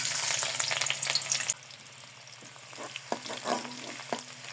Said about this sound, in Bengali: তেলের মধ্যে দিয়ে দিচ্ছি 1 চামচ ঘি, দিয়ে দিব পেঁয়াজ কুচি